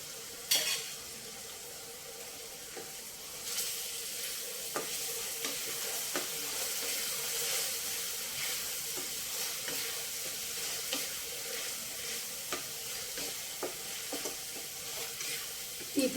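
Spice paste with curry leaves and green chillies fries in a pan for chicken gravy, a soft steady sizzle broken by faint irregular clicks of stirring, quiet and close.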